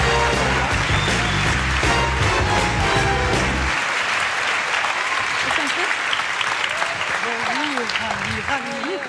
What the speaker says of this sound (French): Applaudissements maintenant